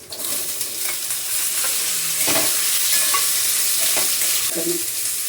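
Red pumpkin pieces sizzle and crackle in a hot pan, with a few scraping stirs and clinks of a utensil throughout.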